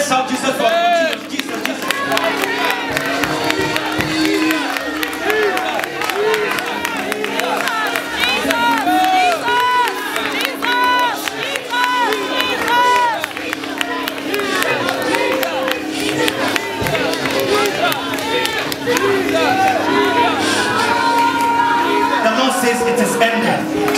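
Sunday church congregation at Zoe Ministries shouting Jesus: a loud, continuous roar of many overlapping voices crying out and cheering together, close and sustained throughout.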